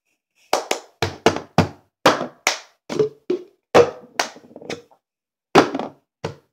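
Cups clapped and slapped against a surface in a cup song rhythm, a sequence of about a dozen sharp, close hand claps and hollow cup taps in a quick pattern with brief pauses, no voice over it.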